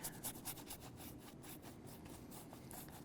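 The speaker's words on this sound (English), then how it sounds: "just continue to scrub this color onto the sky" Paintbrush scrubbing light purple acrylic paint onto canvas for a winter landscape sky, a soft, faint, close rasping brush scrape repeating in quick back-and-forth strokes.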